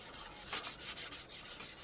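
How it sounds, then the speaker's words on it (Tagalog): Close, steady back-and-forth rubbing of fine sandpaper on a sponge-like surface being repaired, about a dozen quick strokes in an even rhythm with no talking. "Medyo manipis na liha uli ang inyong gagamitin."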